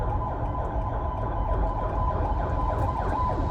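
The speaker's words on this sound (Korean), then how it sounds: "지금 갑자기 앰뷸런스가 가는 바람에 잠깐 길 비켜주더라고" An ambulance siren passing by on the road, a loud, continuous wailing tone with sweeping pitch over the rumble of traffic, heard alone without speech.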